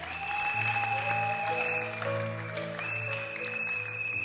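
A wedding congregation in church applauds the Lord, with even, steady clapping at moderate distance beneath sustained organ or keyboard chords.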